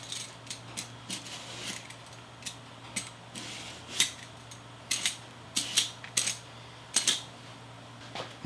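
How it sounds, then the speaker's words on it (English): A knife peels an eggplant with sharp, irregular scraping clicks close up, about one or two each second, over quiet background hum. "The eggplant's all peeled."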